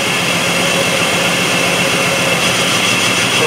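A 2005 Jeep Liberty 3.7L V6 with a multiple-cylinder misfire runs with one ignition coil unplugged, a loud, steady engine drone heard close up with no talk.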